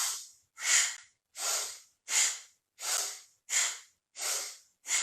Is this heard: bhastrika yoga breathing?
yes